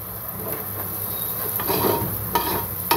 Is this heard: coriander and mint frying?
yes